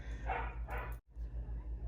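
A Doberman barks indoors, two close barks followed by a sharp click and softer fainter barks, with a constant low hum underneath.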